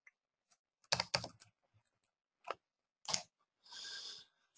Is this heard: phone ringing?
no